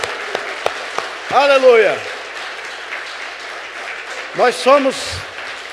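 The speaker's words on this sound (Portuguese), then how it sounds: "Vamos dar uma salva de palmas para o Senhor Jesus Cristo." A church congregation applauds during a worship service. The dense clapping runs throughout, underneath a man's loud, ringing exclamations.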